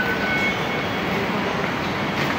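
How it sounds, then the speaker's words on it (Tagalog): A train rumbles past close by in a steady, dense roar with faint squealing tones, heard on a drizzly day. "So, ayan ang tren."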